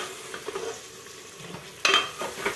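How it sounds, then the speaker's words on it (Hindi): Chopped onions frying in hot oil in a kadhai for keema, stirred with a utensil: a steady soft sizzle with scraping and a sharper clatter of the spoon against the pan near the end, no talk. "डालते हैं प्याज और इसको भूनना है गोल्डन ब्राउन होने तक।"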